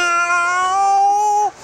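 A human voice imitates a cat's meow with one drawn-out, sustained nasal call that holds steady and then drops off abruptly near the end.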